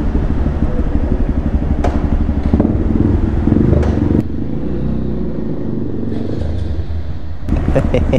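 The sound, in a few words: motorcycles revving during wheelie practice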